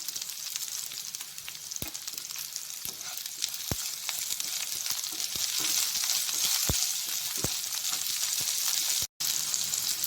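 Steady oily sizzling of okra sautéing in a pan fills the clip, with occasional sharp clicks and scrapes of stirring, close and continuous.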